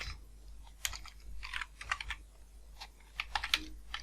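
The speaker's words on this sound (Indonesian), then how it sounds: "Terus di dalamnya kita ketik dim" Typing on a computer keyboard while working in Excel VBA, with irregular bursts of sharp, close key clicks and a few louder keystrokes, no voices.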